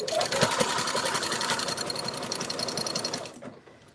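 A sewing machine runs steadily, stitching quilt-as-you-go pieces with bright zigzag thread, a fast continuous whirring close by that slows and stops near the end.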